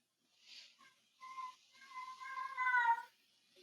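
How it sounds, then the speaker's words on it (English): A house cat hollering indoors, a few drawn-out, rising meows and wails with a louder, strained cry near the end, heard alone and fairly close. "Ignore my cat hollering in the background"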